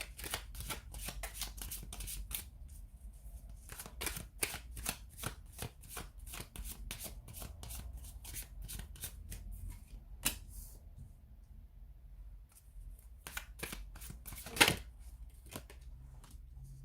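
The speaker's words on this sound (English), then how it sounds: "let's take a look and see what the cards want you to know about them." Tarot cards are shuffled close up in a quiet room, a long run of rapid crisp riffles and soft flutters with brief pauses between bursts and one sharper snap near the end.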